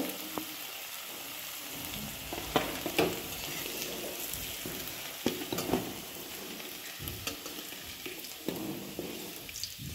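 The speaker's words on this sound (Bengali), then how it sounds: "এখন আমরা তেলে কারি জিরা ফোড়ন দিয়েছি।" Cumin seeds frying in hot oil in a kadai for a Bengali potato dish, a faint steady sizzle with occasional clicks and stirring scrapes.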